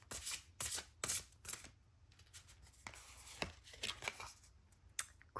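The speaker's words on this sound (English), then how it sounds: "Let's get some tarot cards and see what other messages Mary Magdalene has for you" Tarot cards are shuffled in a quiet room, with bursts of crisp riffling and flicking in uneven clusters, close and fairly soft with no voice.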